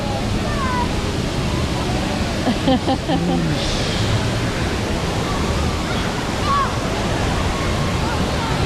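Waves starting up in the wave pool at Volcano Bay water park, a continuous broad rushing of surf and churning water with crowd voices mixed underneath.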